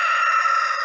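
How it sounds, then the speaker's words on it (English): A loud, close rooster crow rings out in one sustained, bright call lasting under a second. "there's my crazy rooster."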